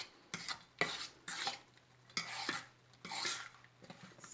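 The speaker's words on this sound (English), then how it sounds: "I'm going to mix well with my butter." Seasoned pork being mixed into butter in a bowl, four or five separate bursts of wet scraping and stirring with short quiet pauses between them, close but fairly soft.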